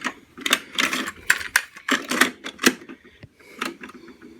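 Mechanical clacks and clicks from the cassette tape deck of a 1980s Panasonic SG-J555L boombox being operated during restoration, a series of sharp, close button presses and latching thunks at uneven intervals.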